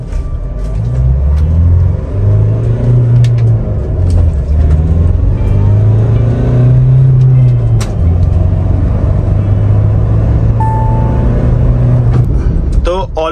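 A modified Maruti Swift accelerates hard from a standstill to 100 km/h. Its engine note climbs loudly and steadily, dropping at each gear change before rising again, heard close up from inside the car, with a voice speaking briefly.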